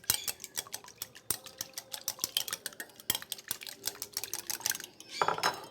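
Quick, irregular clinks of a utensil beating salted egg in a bowl, close and fairly quiet, with a brief denser burst of scraping near the end.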